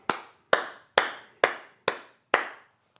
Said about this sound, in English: give a round of applause to Juan